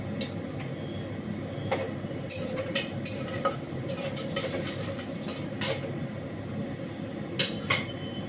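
Whole spices, bay leaves, garam masala and cumin, fry in hot tempering oil with a steady low sizzle, broken by several sharp clinks of a spoon stirring against the pan.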